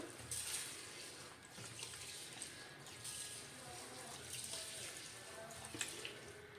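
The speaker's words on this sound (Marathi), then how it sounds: "व्यवस्थित आपण हे चोळून धुवायचं आहे तांदूळ" Rice for idli is rubbed and washed by hand in a vessel of water, producing soft, faint sloshing and swishing with occasional light splashes, with a voice speaking at times.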